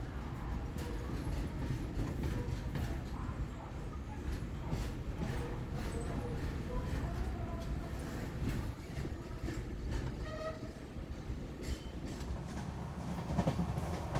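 Matsyagandha Express LHB train running after departing Kudal, a faint, steady rolling rumble with soft rhythmic clacks of wheels over rail joints throughout.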